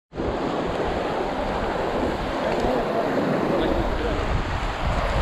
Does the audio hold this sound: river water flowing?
yes